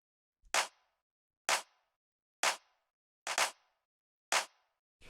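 A fat, powerful techno clap sample hits five times at a steady pace, each a crisp, loud burst of noise with a short decaying tail, heard alone in silence.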